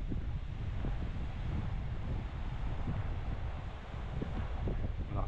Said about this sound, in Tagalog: Malakas pa rin yung hangin, guys.